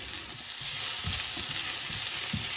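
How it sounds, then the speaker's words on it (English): Onions frying in two teaspoons of olive oil in a hot pan over medium heat, a steady loud sizzle with occasional stirring knocks, no talking. "2 teaspoons olive oil and onion to hot pan"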